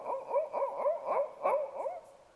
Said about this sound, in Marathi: लांबचा कुत्रा दाखवायचा आहे